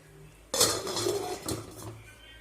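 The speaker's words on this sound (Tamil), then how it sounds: "திருப்பி நம்ம மூடி வச்சுருவோம்." Metal spoon clinks and scrapes in a pot of uppu kari, a salted meat curry, as it is stirred and a lid is set back on, a burst of clattering followed by quieter knocks, fairly close.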